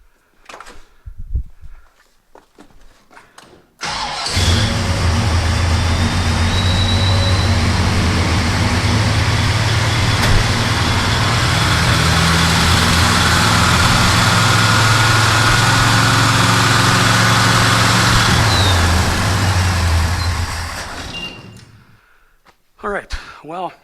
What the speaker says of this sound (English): at this point, we should be able to turn the key and this thing should fire up